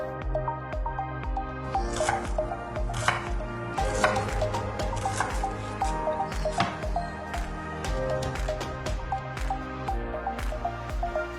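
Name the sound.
shallots being roughly chopped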